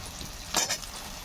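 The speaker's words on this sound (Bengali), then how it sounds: "এখন এই আলুটাকে একটু মিডিয়াম আঁচেতে বেশ লাল লাল করে কিন্তু ভেজে দিতে হবে" Potatoes and pointed gourd fry in oil over medium heat, a quiet steady sizzle with one brief louder crackle as the pieces are moved.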